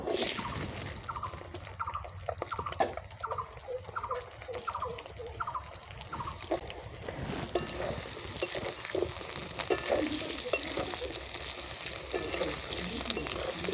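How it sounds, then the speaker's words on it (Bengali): Potato pieces frying in the oil used for frying fish, a steady crackling sizzle with bursts of stirring in a home kitchen, loud and continuous throughout. "এবার এই তেলে আমি আলুটা ভেজে নেব।"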